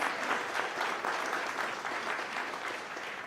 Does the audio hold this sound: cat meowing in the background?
no